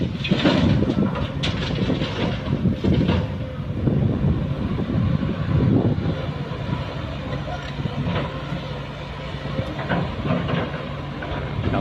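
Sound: wind blowing at a fishing pond

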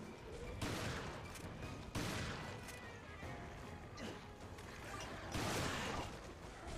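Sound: gunshots in the video game Resident Evil Revelations 2

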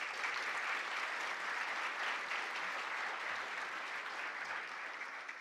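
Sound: applause for the jury member

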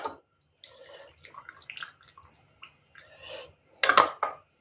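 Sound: hot water poured into jars

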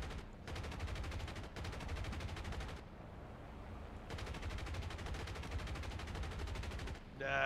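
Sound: enemy aircraft gunfire in a flight combat video game

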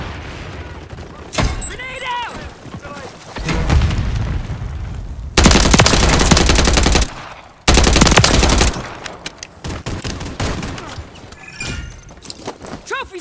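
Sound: grenade explosion and gunfire in the video game Modern Warfare 3

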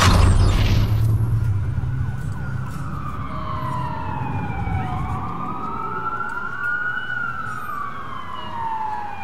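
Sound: police sirens in a video game

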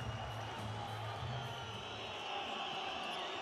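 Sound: handball crowd at the Belgrade Arena

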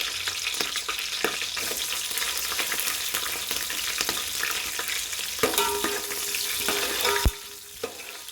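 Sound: green chillies frying with chicken

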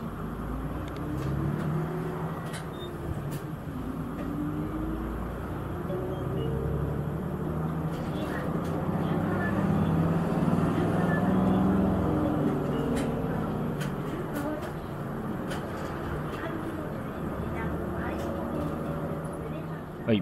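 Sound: Toei city bus driving, heard from inside

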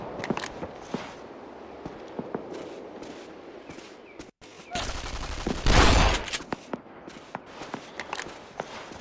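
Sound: shotgun fire in a WW2 video game

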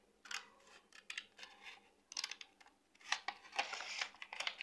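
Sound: scissors cutting paper for a slider card craft

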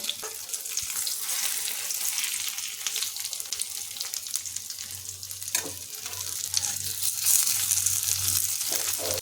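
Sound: til (sesame) fritters frying in hot oil

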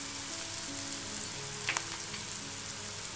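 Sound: stirring spices into frying stuffed aubergine masala

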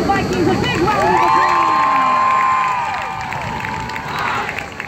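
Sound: applause and cheering for the Miami Dolphins Vikings

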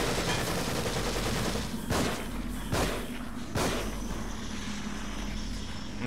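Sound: automatic rifle gunfire in the video game The Evil Within

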